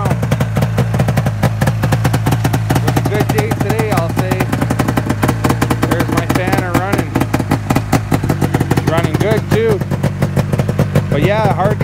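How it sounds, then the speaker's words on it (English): A 1995 Ski-Doo Skandic snowmobile with a fan-cooled engine runs on two cylinders, making a loud, close, rapid and steady firing rhythm with a rough, clattering edge throughout. "There's my fanner running right there on two cylinders now."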